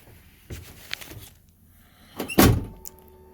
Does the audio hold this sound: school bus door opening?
yes